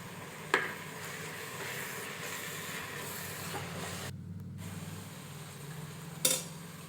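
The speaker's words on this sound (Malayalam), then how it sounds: "എല്ലാം ചേർത്തിട്ട് നമുക്ക് ഇളക്കി കൊടുക്കാം." A chilli powder mixture is stirred in a pot for Thalassery dum biryani: a low continuous hiss of cooking with two sharp metallic clinks of a spoon against the pot, near and without talk.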